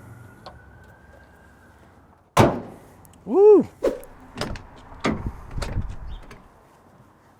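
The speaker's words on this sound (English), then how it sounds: "doors open like a brand new car" Doors of a 1980 Mazda RX7 in nice original condition being worked, giving a sharp slam followed by a few lighter clunks and latch clicks close by, with a short whoop-like tonal sound in between.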